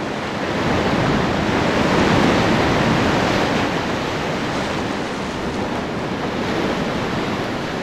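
Sea waves surge and crash right beside the Heonhwa-ro coastal road in Gangneung, a loud continuous roar of surf mixed with wind buffeting the microphone, with no talk.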